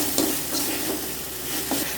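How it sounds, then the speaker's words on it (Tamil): Onions and tomatoes sauté in a pan while masala for nandu kulambu, a crab curry, is prepared. A steady sizzle fills the clip, broken by a few scraping stirs of a spatula, close and moderately loud. "நல்லா வதங்கிட்டு இருக்கு."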